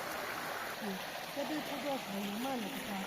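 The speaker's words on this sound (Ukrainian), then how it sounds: "Зустрічає нас така водичка. Ми прямуємо до водопаду." A mountain stream in the Carpathians, on the way to a waterfall, rushes with a steady, even wash of water, while voices murmur over it throughout.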